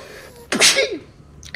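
One sharp human sneeze, a quick inhale followed by a loud explosive burst, close to the microphone, then quiet.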